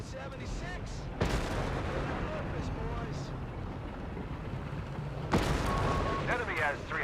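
Heavy artillery shelling in Company of Heroes from M3 vehicles on a wartime battlefield, with two loud booming impacts over a constant rumble of distant fire and noise, and voices talking throughout.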